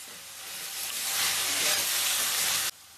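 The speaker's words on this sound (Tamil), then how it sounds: "வெங்காயம் கொஞ்சம் சீக்கிரமா வதங்கிறதுக்கு நான் கொஞ்சம் கல்லுப்பு சேர்த்துக்கிறேன்" Onions sautéing in a pan with rock salt make a steady sizzle that swells, is stirred, and then drops off abruptly at the end, with no talking over it.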